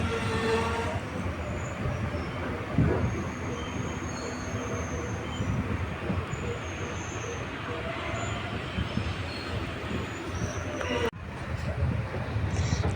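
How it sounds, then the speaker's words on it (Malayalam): A Guruvayur Express train arriving at Chalakudy railway station in Kerala rumbles and clatters steadily along the rails, wheels squealing at times, loud and close throughout with a brief dip near the end. "നമ്മളുടെ ട്രെയിൻ ഇപ്പോൾ ഇതാ ചാലക്കുടി റെയിൽവേ സ്റ്റേഷനിൽ അറൈവ് ചെയ്തിരിക്കുകയാണ്"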